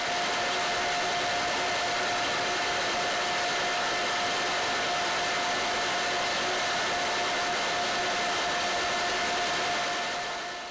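A jute spinning machine runs with a steady, even mechanical whir and a constant high tone as sliver passes through the drafting zone, loud and unchanging throughout.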